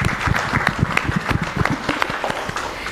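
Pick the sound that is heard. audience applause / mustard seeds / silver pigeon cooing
audience applause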